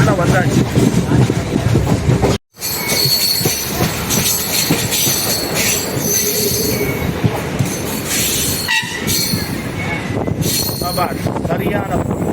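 A main-line electric multiple unit train running between Karur and Trichy, heard from inside as a loud continuous rumble with wheel squeal and clatter, nearly unbroken except for a brief dropout.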